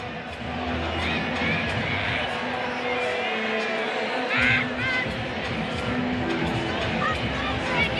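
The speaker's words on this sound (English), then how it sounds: "Still a big crowd here tonight." Crowd murmur at a night baseball game between the Astros and Angels at an outdoor stadium, a steady broad babble with occasional louder swells and a commentator talking over it.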